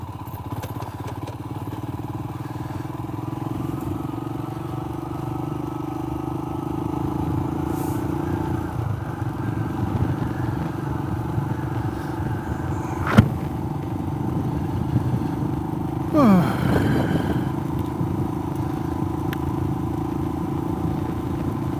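An adventure motorcycle rides along a road in South Australia near Two Wells, its engine droning steadily with a low hum, tonal shifts as it changes speed, and occasional thumps and clatter from the road surface.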